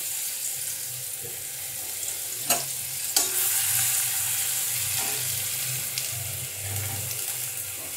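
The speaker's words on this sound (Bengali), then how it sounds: "এবার আমি গাজর কুচিগুলো ছেড়ে দিচ্ছি।" Chopped carrots for veg chow mein stir-fry in hot oil, giving a bright, hissy, steady sizzle with a couple of distinct utensil knocks early on and faint scraping throughout.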